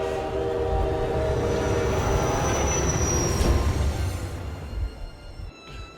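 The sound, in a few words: train running in Metro Exodus video game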